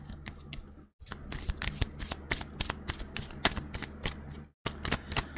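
Tarot cards being shuffled by hand close up: a run of crisp, rapid papery riffles and snaps, with brief pauses near the start and again just before the end.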